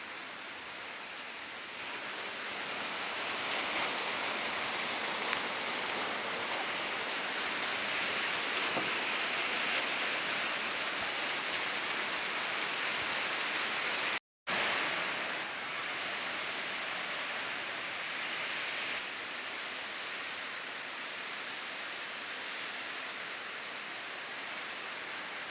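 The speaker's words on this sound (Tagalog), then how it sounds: "So thank you Lord, umuulan." Steady rain falls over a garden with vegetables, a constant dense hiss that stays even throughout with one brief dropout midway.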